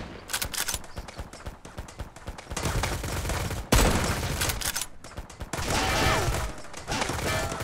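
Gunfire from a sniper rifle and other weapons in the survival game Mist Survival, loud sharp bursts and rapid volleys with short gaps, dense and chaotic throughout.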